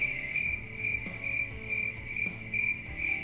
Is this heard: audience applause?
no